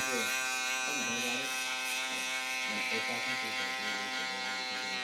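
A close electric shaver buzzes continuously while trimming and shaping a beard edge during a barbershop fade cut, with someone talking over the steady hum.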